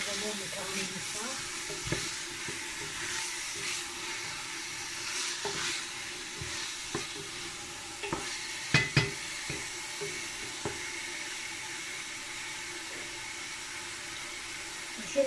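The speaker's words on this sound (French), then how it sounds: "Je baisse un peu le feu pour que les oignons ne caramélisent pas." Onions frying gently in a pan over lowered heat, a steady soft sizzle with occasional stirring clicks and scrapes, close and continuous, no talking.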